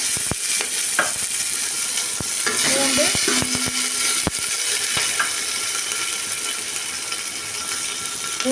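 Shallots, garlic and curry leaves frying in oil for rasam sizzle steadily in a pan, with a spoon clinking and stirring in short scrapes over the constant crackling hiss, close up.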